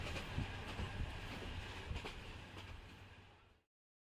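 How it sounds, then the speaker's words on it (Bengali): A train rolls into a station and slows, a low rumble with faint rhythmic clatter that fades out as it stops, with no talk. "যথাসময়ের খানিক পর ট্রেন এসে থামলো স্টেশনে।"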